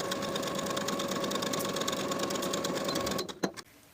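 A sewing machine stitches a 3/8 inch seam along the bottom edge of a jumpsuit pocket, running steadily and close for about three seconds before stopping with a couple of soft clicks.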